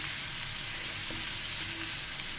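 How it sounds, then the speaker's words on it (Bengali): Potatoes fry in hot oil, giving a soft, even crackling sizzle that stays constant and fairly quiet for a couple of seconds with no other sounds. "আমার আলুগুলো প্রায় ভাজা হয়ে গিয়েছে।"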